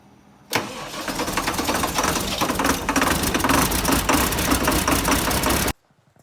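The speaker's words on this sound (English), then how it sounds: "Cold start. It's not plugged in, but starter fixed" A vehicle engine with a freshly repaired starter cold-starts without its block heater plugged in, cranking and then catching into a loud, steady, rough idle that runs for about five seconds before cutting off abruptly.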